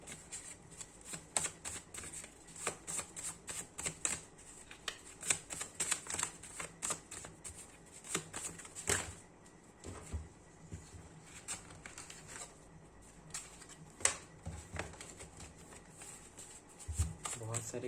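Tarot cards shuffled by hand in a steady run of crisp riffles and flutters, with a few sharper slaps as many cards tumble out, close and fairly quiet throughout.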